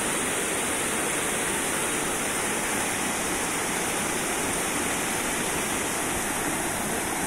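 A river stream flowing beside a road roars as a dense, constant rush of water, loud and close, with no voices over it.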